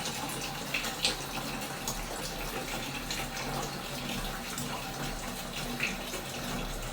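Water runs from a tap through a newly fitted line in a steady, soft hiss that stays even throughout at low volume, with no talking.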